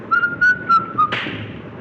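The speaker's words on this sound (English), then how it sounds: "You're whistling, sailor." A man whistles four short, clear notes of a tune aboard a ship, close and soft, followed by a dull thump.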